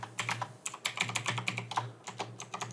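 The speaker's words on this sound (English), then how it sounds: "Just enter your password." Rapid keystrokes on a computer keyboard as a password is typed in Windows 10, a close, quick run of clicky taps with short pauses, alone without talk.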